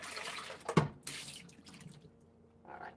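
Kitchen tap water splashes and swishes while a blender is rinsed, in uneven bursts with a sharp clunk, then trickles off before a brief final splash.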